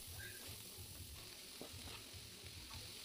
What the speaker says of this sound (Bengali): আমি ক্যাপসিকামটা ভেজে নিয়ে এখন শাকটা দিয়ে দিচ্ছি।